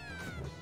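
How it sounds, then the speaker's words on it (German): A cat-like Pokémon in the game Pokémon Floral Tempus gives a short meow as it is sent out of a Poké Ball, one brief tonal cry over game background sound. "Das ist immer so miaut, wenn ich so einen Pokéball hole."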